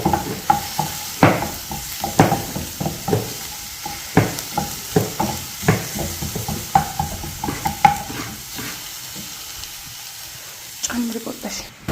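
Eggs frying with tomato and onion in a pan: rapid, repeated scraping and clattering stirs over a light sizzle, close and fairly loud, with a voice speaking intermittently.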